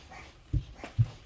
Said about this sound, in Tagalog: Ayan, nag-iingay yung aso ko.